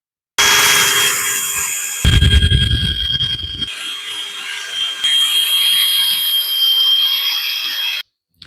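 A woodturning lathe spins a workpiece at about 240 RPM with a smooth, steady tonal whine. A rough, rubbing rasp of contact on the wood cuts in for a second or two mid-run, then the spinning continues alone until it cuts off abruptly.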